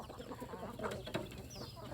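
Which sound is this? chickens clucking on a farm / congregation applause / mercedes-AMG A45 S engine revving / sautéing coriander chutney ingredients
chickens clucking on a farm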